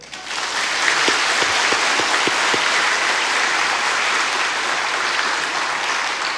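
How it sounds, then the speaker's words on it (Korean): A church congregation applauds its youth group during a service, dense and loud clapping that swells quickly and holds steady to the end. "박수 한번 할까요?"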